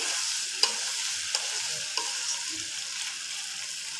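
A fish head curry with winter vegetables sizzles in a pan while a spatula stirs it, giving three or four light clinks over a steady frying hiss, with no voices.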